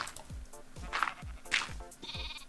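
Sheep in Minecraft give a run of short, quiet, repeated bleats in quick succession, with faint game sounds around them.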